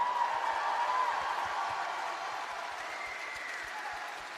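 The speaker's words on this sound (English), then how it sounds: "Let's give him one more big round of applause." Audience at an opening ceremony for the OA Games applauds after a performance, soft distant clapping sustained evenly with a faint low tone beneath.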